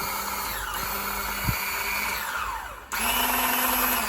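An Oster 4-in-1 blender with mixer attachment runs at turbo speed, a steady high-pitched motor whine with a brief knock midway and a slight pitch shift near the end, close and alone.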